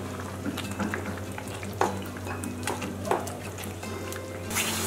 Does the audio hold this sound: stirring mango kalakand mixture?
yes